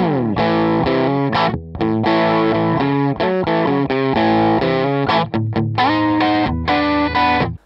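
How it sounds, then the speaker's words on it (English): Crunchy overdriven electric guitar through a Plexi amp model on a Digitech iPB-10 pedal board, plucked chords and riffs with brief gaps, loud and close with no talking. "So this is a Plexi sound."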